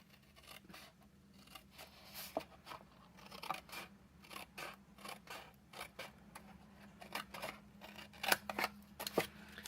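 Scissors snip through paper in a run of short, crisp cuts with an irregular rhythm, close up, while card stock is trimmed for a Christmas gift box; no one speaks.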